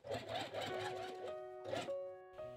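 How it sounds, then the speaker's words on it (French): A sewing machine roughly stitching the two ends of fabric rectangles for a baby doll tiered dress, with short whirring bursts, a brief pause and another burst, close and moderately loud. "je vais également coudre grossièrement les deux extrémités des deux autres rectangles pour créer les frances"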